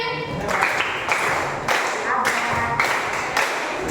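A group claps in unison in short repeated bursts, sharp loud sets of claps separated by brief pauses, with some talking between them.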